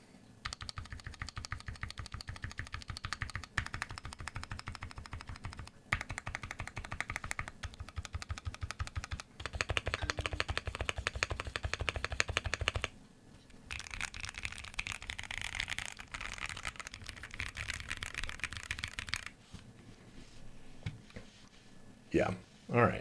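Typing on a Polaris mechanical keyboard fitted with lubed T1 tactile switches, a steady run of close, dense keystrokes over about twenty seconds with brief pauses, ending in a few louder final key presses.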